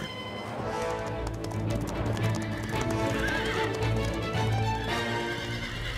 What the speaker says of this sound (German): Ich hab doch gesagt, ihr sollt die Pferde nicht erschrecken.